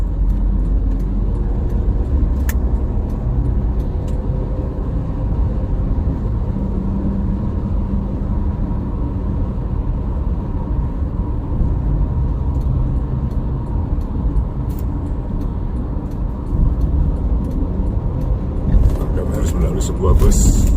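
Steady heavy traffic rumbles along the Cipali toll road, with intercity buses, trucks, tronton rigs and box vehicles passing in a continuous low roar, a few brief clicks and hisses on top, heard from inside a moving vehicle.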